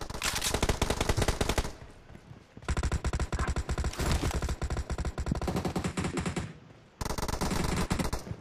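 Sustained automatic gunfire in a PUBG Mobile domination match, loud rapid bursts repeating over several seconds with brief pauses between volleys.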